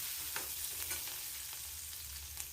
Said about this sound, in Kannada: ಐದು ಹಸಿಮೆಣಸು ಒಂದು ತುಂಡು ಶುಂಠಿ ಇದೆಲ್ಲವನ್ನು ಒಟ್ಟಿಗೆ ಫ್ರೈ ಮಾಡ್ಕೊಳ್ಳೋದು